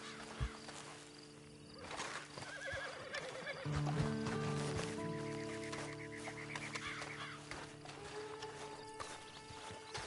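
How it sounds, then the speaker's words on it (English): Horse in the video game Red Dead Redemption 2 Online, giving a whinny and snort amid soft hoof clops and mechanical clicking game sounds, moderately quiet with no speech. "Then you better get on this horse."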